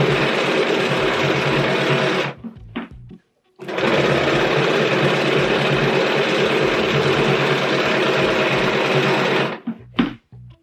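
Sewing machine stitching steadily through a bulky quilt, a loud continuous motor whir in two long runs separated by brief stops, with no talking.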